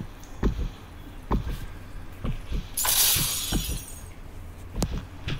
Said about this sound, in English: Why is there glass shattering?